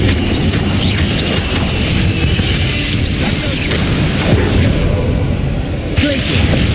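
A Confringo blasting spell explodes in the video game Hogwarts Legacy, a loud, dense burst of booming, crackling game audio that holds steady throughout amid continuous combat effects.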